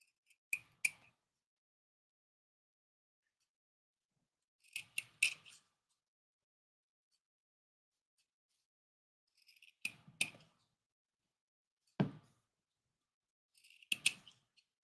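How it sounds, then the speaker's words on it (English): Quiet, close-up snips of scissors trimming fabric close to the stitching on coasters, coming in small clusters of two or three crisp clicks separated by silent pauses. "we're just going to trim close to the stitching here"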